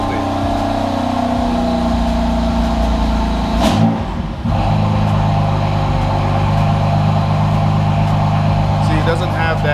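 A BMW F82 with an MHD burble tune and exhaust valves open rumbles steadily at close range, holding a deep, continuous drone with a brief swell of revving partway through.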